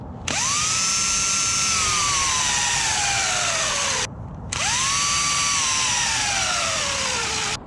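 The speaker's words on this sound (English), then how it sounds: "I just drilled two holes here through the metal, and I drilled two holes through here in the wood" A power drill bores through metal and wood in two long bursts, each spinning up to a loud whine that slowly drops in pitch under load before a short pause between them.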